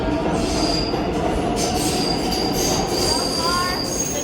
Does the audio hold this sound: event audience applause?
no